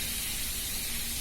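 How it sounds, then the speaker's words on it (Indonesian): Fish frying in a pan for a dish of fish and potatoes in coconut milk gives a steady, close sizzling hiss that runs unbroken, with no voices over it. "Tinggal goreng"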